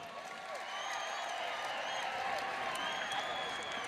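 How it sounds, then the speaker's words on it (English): A crowd applauds after a women's Reality Fighting bout, steady clapping and scattered cheers filling the room at a moderate, even level without pause. "Give both ladies a big round of applause."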